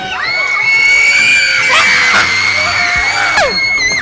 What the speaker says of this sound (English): A lot of screaming right now for nothing because it's not that terrifying.